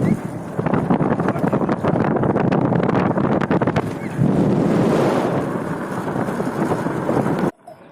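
Strong wind buffets past while a fatbike coasts downhill with the wind through a gorge in Turkey, a loud roaring rush that swells and eases before cutting off abruptly near the end.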